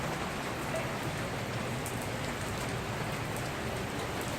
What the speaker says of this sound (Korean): 비 내리고.